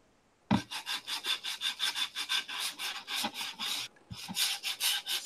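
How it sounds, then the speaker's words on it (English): Sandpaper rubs back and forth over a wooden cutting board in rapid, rhythmic strokes, close and fairly loud, with a brief pause before the scraping resumes. "let's sand this baby."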